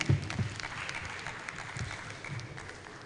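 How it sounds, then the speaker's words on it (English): Applause for the board and management at a company annual general meeting, soft scattered clapping from a modest audience in a hall, fairly faint and thinning out over a few seconds. "Please, a round of applause for our board and management."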